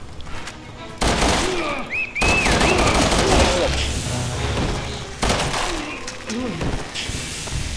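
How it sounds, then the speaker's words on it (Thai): Loud shotgun blasts go off in the video game Resident Evil 6, several heavy booming shots spaced a second or more apart, while someone talks over the gunfire. "โอ้โดนช็อตกันกระเด็น"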